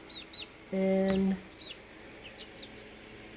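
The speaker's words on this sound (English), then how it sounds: "Chickens are telling you hi." Backyard chickens during spring chores give short clucks and squawks, one louder drawn-out call in the middle among a few softer scattered clucks, close by, with a brief word spoken nearby.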